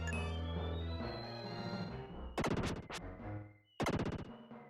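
Retro video game sounds from Illusion of Gaia: a descending electronic tone followed by two loud bursts of rapid, buzzing weapon-shot effects as piercing shots strike enemies, with no talking.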